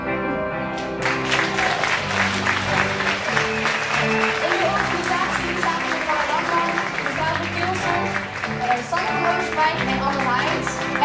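Audience applause at the end of a school Christmas show, sustained dense clapping from a large crowd filling the room at steady loudness, with some voices and band tones mixed underneath.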